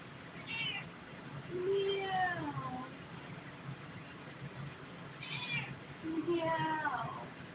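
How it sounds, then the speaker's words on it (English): Two domestic cats meow in a pair of drawn-out, rising-and-falling calls with a pause between them, heard close over low background noise. "So the cats are jealous of each other for pets, like being pet."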